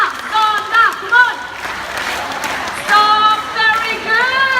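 A bird-show crowd at a park claps and shouts in unison for a blue-and-gold macaw, loud rhythmic chanted bursts over a bed of clapping, pausing briefly before the chant resumes.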